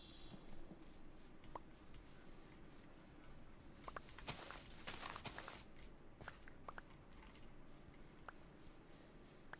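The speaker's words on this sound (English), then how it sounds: "I was going to say I can hear footsteps." Minecraft Bedrock with a soundscape add-on plays quiet footsteps, a faint run of soft scuffing and rubbing steps with a few light clicks over a low background hush.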